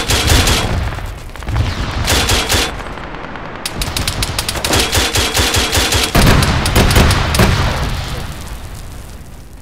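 Heavy gunfire in an ArmA 3 convoy ambush: dense, overlapping bursts of automatic fire and single shots, loud and close, with rapid volleys clustering in several waves throughout and no talk.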